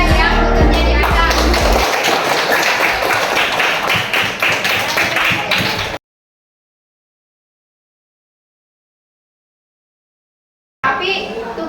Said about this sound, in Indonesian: Jadi beri aplaus sama teman saya yang bekerja di atas.